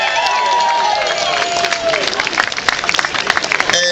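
A crowd at a Christmas-themed 5K road race in Columbus, Georgia applauds a race winner with steady clapping and scattered cheers, while voices carry over the top.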